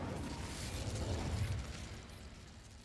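In Hogwarts Legacy, the Incendio fire spell lets out a soft whooshing, rumbling burst of flame that swells and then fades, with no talk.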